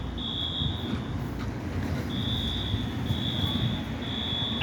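Fire alarm at Roxbury Crossing station sounds in repeated high electronic tones, a few long beeps separated by short gaps over a low background rumble, moderately faint and somewhat distant.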